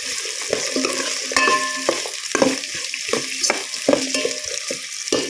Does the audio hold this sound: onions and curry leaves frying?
yes